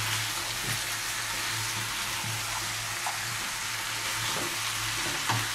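Chopped carrots and potatoes go into a pot of chicken stew, setting off a steady close sizzle and soft stirring scrapes, with a few light clicks over continuous frying hiss and no talk.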